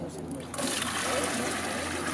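Water falling straight down into a basin, a steady splashing rush that swells after a brief quieter opening and then holds continuous and close.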